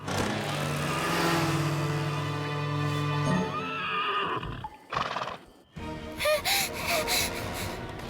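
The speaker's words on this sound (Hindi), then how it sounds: "ये तो सिरकटे घोड़े की हिनहिनाहट की आवाज है।" A cartoon pony gives a long, loud whinny up close, followed by snorts and a few hoof clops.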